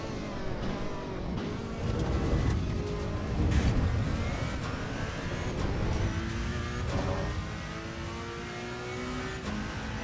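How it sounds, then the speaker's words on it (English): Several race car engines in the video game Assetto Corsa Evo rev and roar continuously, rising and falling in pitch as they accelerate and shift, loud and close with no talking. "Enjoy the sounds of these cars uninterrupted by my talking for the next lap."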